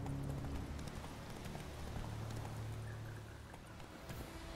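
Horse hooves clip-clop at a steady trot along a road in The Witcher 3: Wild Hunt, a continuous rhythmic patter over low ambient game sound and wind, with no talk.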